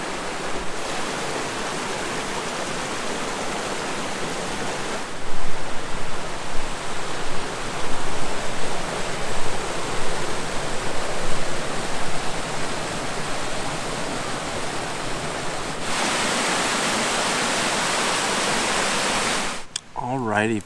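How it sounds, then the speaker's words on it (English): Waterfall at Amnicon Falls State Park, Wisconsin, roaring as a steady, dense rush of falling water close by, with a brief surge in loudness partway through and a short disturbance near the end. "And here's another waterfall."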